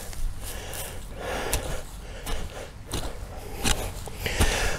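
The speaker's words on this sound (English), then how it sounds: "Sorry to have to make you listen to my breathing heavily." Heavy, labored breathing from someone digging out a sloped garden bed to level ground for a hive stand, with gasping breaths and occasional scraping thumps up close.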